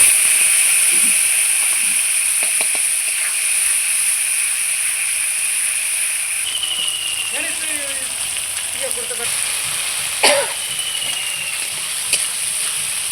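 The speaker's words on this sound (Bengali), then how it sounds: "মশলাটা একটু ভেজে নিলাম" A ground paste of ginger, cumin and dried chilli frying in a pan, a steady close hiss and sizzle with a few brief clinks of a utensil against the pan.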